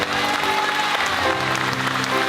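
An audience claps for a group of children at a gathering in the Cantal, a dense, continuous burst of applause that stays loud and even from start to finish.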